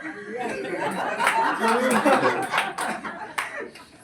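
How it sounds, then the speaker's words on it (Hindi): An audience at a Hindi comedy poetry show claps loudly and steadily, mixed with scattered laughter and murmuring voices. "आप लोगों ने घनघोर तालियां बजाई हैं।"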